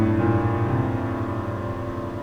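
Low bass chord played on piano with the sustain pedal down, thick and muddy with overlapping notes blurring together into a dense rumbling wash that rings on steadily without talk.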